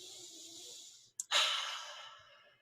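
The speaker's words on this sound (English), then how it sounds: "Take a deep breath." A single deep breath inhaled and then slowly exhaled close to the microphone during a tapping exercise for chocolate cravings, a sharp intake followed by a long, fading outbreath, with no talking.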